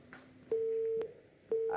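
A telephone line gives two long steady electronic tones separated by a short gap as a call cuts off, with faint noise in between.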